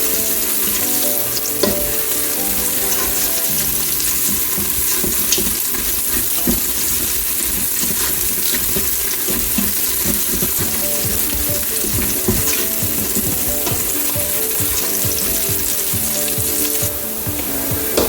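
Onions frying in a pan until golden, a loud, dense, unbroken sizzle and crackle with occasional stirring scrapes, no voices.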